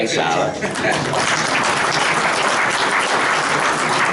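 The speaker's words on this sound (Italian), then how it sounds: "potrebbe perfino scapparci un applauso all'autore, che è in sala" Audience applause in a hall at a book presentation on dialects and traditions of the eastern Venetian Prealps, a dense steady roar of many hands clapping throughout, loud and close with faint voices mixed in.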